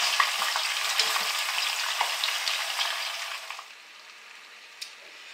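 Onion sizzling in a pan for a tomato ragout, a close continuous crackle with light stirring taps that dies down to near quiet in the last second or so.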